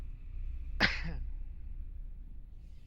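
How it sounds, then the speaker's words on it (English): One muffled sneeze is held in with the nose plugged, a short, sharp burst that quickly fades against quiet background hum. "That was me sneezing but plugging my nose."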